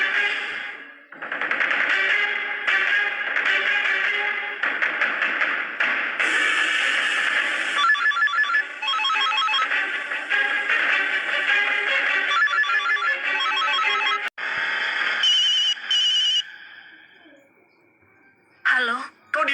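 A telephone rings in repeated electronic bursts, loud and close, filling most of the stretch, with other tones and noise layered in and a brief break near the end.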